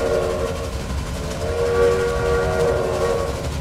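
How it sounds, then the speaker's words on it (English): Steam train whistle in the Railway Empire game, Great Britain and Ireland setting, sounds a sustained, echoing tone over the steady rumble and rhythmic clatter of the rolling train, continuous and fairly loud with no talking. "just the change in the sound to the whistle."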